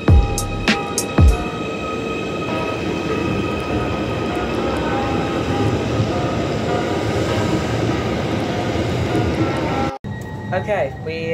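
A train runs on rails toward Liverpool Central, a steady loud rumble of wheels and carriage noise throughout, with a few sharp clacks early on and a brief drop near the end, while people talk over it.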